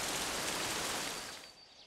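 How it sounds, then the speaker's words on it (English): Steady rain from a cartoon rain cloud pours down loud and close, a dense even hiss that thins out near the end, with no voices. "It's raining, and my puddle is getting bigger."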